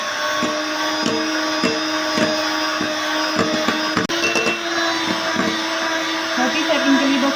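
An electric hand mixer whirs steadily while beating ghee and egg together for cake rusk batter, a continuous close motor hum with light clicks against the bowl.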